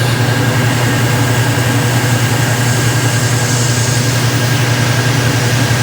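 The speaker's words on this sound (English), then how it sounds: "I've got an air line hooked up to it, and we're gonna blow it out right now." A compressed air line blowing fluid out of a throttle cable during a retro rebuild, heard as a loud, steady, continuous rushing hiss with a low hum, close up and unbroken, with no talking.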